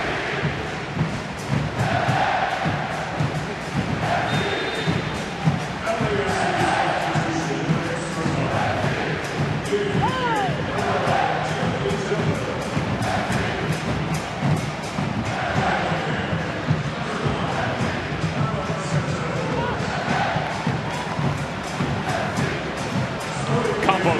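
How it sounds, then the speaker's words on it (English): A large stadium crowd roars and cheers continuously at a soccer cup final, a broad far-off swell, with a commentator talking over it. "And listen to this crowd."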